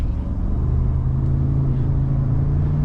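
A 2022 Ford Expedition Timberline 4x4 in sport mode accelerates with a steady, deep engine rumble heard from inside the cabin, continuous and moderately loud.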